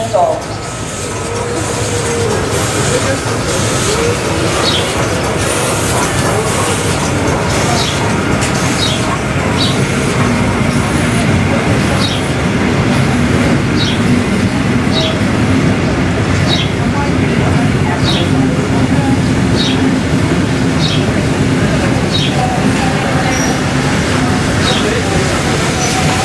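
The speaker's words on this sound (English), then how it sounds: "Train on platform 1 is your steam train." A Steamrail heritage steam train waits at a station platform, a steady loud mechanical hum and hiss with faint rhythmic ticking, while a public address voice speaks over it.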